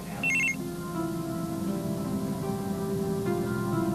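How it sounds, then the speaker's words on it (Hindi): A telephone rings indoors with a short burst of bright trilling tones, followed by a steady electronic hum. "घर से फोन आ रहा है।"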